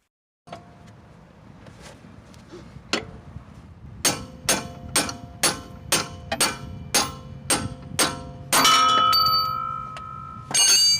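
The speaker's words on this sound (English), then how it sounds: "with the pickle fork and the hammer, I knocked it the rest of the way out" Sharp metallic strikes ring out in a steady series, about a dozen hammer blows on a steel pickle fork driving a part loose on a Jeep, with a few scattered taps first and a longer clanging ring near the end.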